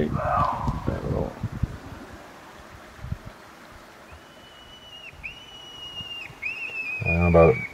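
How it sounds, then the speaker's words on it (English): Thin, high-pitched squealing cries of a screaming-rabbit predator call, used to attract cougars, repeat three or four times at a distance, with people talking briefly before and after. "This currently is a screaming rabbit."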